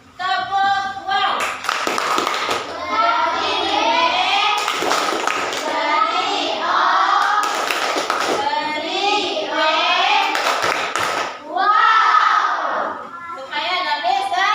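Schoolchildren in a primary classroom perform the tepuk wow clapping chant, mixing rhythmic group clapping with lively sung and shouted voices, loud and close throughout, with a brief pause near the end before the voices return.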